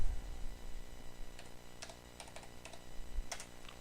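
A computer keyboard clicks while entering a search in Excel: a few scattered, crisp keystrokes over a steady background hum, close and moderately quiet, with no talking.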